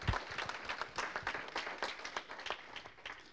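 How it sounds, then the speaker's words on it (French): An audience at a regional digital cluster presentation applauds the sponsors, a moderate round of rapid overlapping claps from a modest crowd, fairly quiet and steady, tapering slightly toward the end. "Et on peut les applaudir également."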